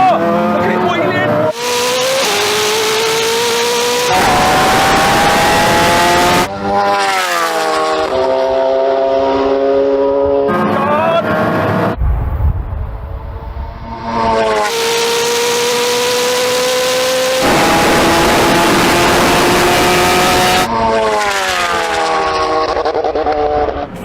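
A Koenigsegg Jesko hypercar and a tuned Hayabusa motorcycle drag racing, with loud engines revving in rising harmonic sweeps through repeated gear changes, near and sustained, while people talk excitedly over it.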